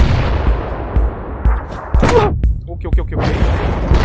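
Repeated grenade explosions in a PUBG match, heavy thumping blasts landing about every half second, loud and close, while someone talks excitedly over them.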